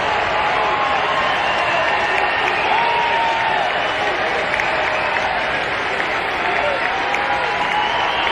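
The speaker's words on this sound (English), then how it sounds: "Listen to this crowd coming to full throat." Big crowd at a college baseball game, Ole Miss versus LSU, roaring and cheering at full volume in a dense, sustained wall of noise, with announcers faintly audible underneath.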